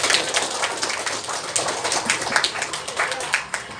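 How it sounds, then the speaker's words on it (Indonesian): Children in a classroom clap for a classmate, a steady burst of many small hands applauding close by for a few seconds. "Tepuk tangan untuk Rufi."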